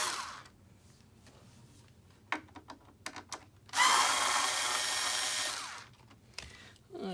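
A power tool whirs loudly for about two seconds after some clattering handling noises, then stops, with another brief start at the end.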